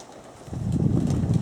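Racing pigeons at their loft, a dense low murmur of cooing that swells and grows louder after a quieter start, heard close up.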